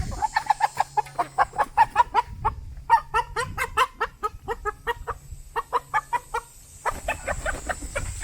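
Chickens clucking close by in quick, repeated bursts, with a little low background noise and no clear talking.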